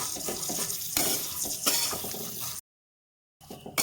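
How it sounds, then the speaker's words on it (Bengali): Vermicelli for sweet zarda semai being stirred in a pan, close scraping and rustling strokes with a faint sizzle, broken by a brief cut to silence before resuming. "এখানে আমার সিমুইটা সুন্দর করে নাড়ে চেড়ে নিয়েছি"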